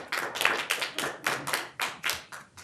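Scattered hands clap at a county commissioners' meeting, about nine distinct, fairly loud claps in an uneven rhythm from a small group rather than a full crowd.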